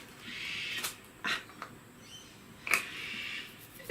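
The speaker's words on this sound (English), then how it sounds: "Can you guys hear all the birds that are in the background?" Faint birds chirp and call in the distance over a steady hiss of outdoor ambience, with a few soft clicks and knocks.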